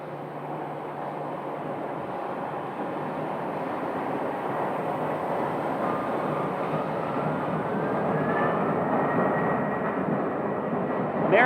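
Embraer E120 small cargo turboprop at Phoenix Sky Harbor Airport, a steady broad engine roar that holds loud throughout, with a faint rising whine toward the end and no talk over it.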